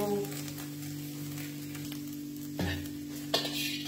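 Fenugreek, five-spice, cardamom and cloves drop into hot oil, giving a steady crackling sizzle over a low kitchen hum, with a couple of brief flare-ups as more spices go in. No talking.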